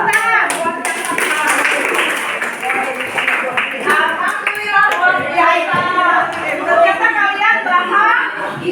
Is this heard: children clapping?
yes